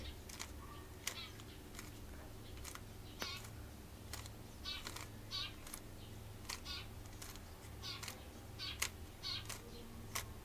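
A Rubik's Cube being turned through a T-perm algorithm, giving a rapid series of light plastic clicks and clacks, close and quiet over a low background hum.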